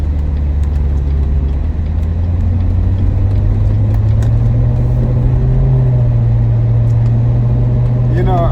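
A Chevrolet Corvette cruises at low speed and turns right, its engine a steady, close low drone inside the cabin with road noise, a slight pitch rise midway and no voices.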